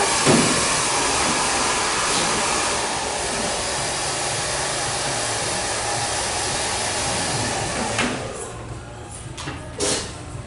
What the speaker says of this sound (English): I'm going to hit this one more time with the dryer.